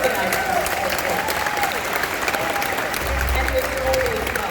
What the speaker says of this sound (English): I think we should give Ms. Sedano a round of applause for organizing this event